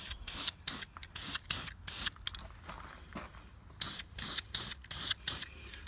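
An aerosol spray paint can coats wheel caps in short, sharp hissing bursts, five before a pause and six after, loud and close, with no voices.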